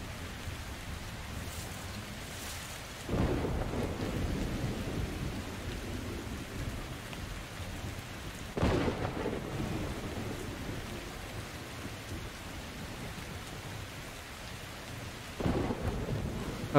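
Steady rain pours through a Metro Exodus thunderstorm, with loud rolling thunder cracks breaking in three times, each swelling then fading back into the constant downpour.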